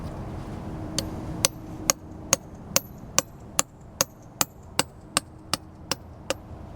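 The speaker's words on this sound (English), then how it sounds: "you simply just put these anchoring pins in the holes and you tap them in" Anchoring pins being tapped into holes in a granite mailbox base with a hammer: about fifteen crisp, evenly spaced metallic taps, close and distinct over a low background hum.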